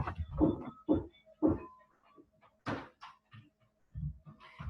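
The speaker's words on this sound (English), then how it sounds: "Let me close the door" A door being shut inside a home, heard as a few sharp knocks and thuds close by at the start, followed by scattered quieter household bumps.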